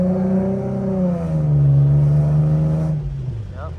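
A 2008-2013 Infiniti G37 coupe accelerates on the road, its engine note rising steadily and loud from inside the cabin before easing off near the end.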